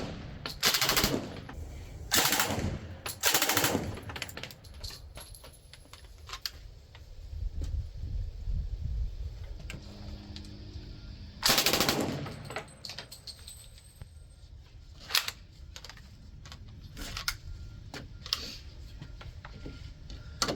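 WWII Thompson submachine gun firing in several short bursts, loud and close, with scattered single shots and clicks between bursts.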